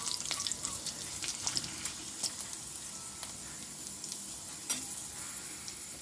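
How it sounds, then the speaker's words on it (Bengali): Colourful papad frying in hot oil, a continuous crackling hiss with tiny popping bursts throughout, steady and close, no talking. "দেখো বন্ধুরা কেমন কালারফুল পাঁপড় ভাজা হচ্ছে"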